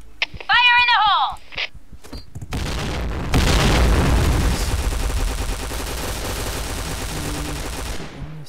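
A grenade blows up in a shooter video game with a heavy booming blast, followed by a long rolling roar and scattered gunfire as the explosion fades.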